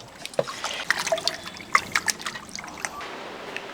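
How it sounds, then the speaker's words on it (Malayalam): Mackerel pieces rinsed in a basin of hot water, with close, irregular splashes, drips and trickles that fade toward a quieter end. "വെള്ളമൊക്കെ ദേ ചൂട് വെള്ളമാണ്. ഒരു 3-4 വട്ടം ഒന്ന് കഴുകിയെടുക്കട്ടെ."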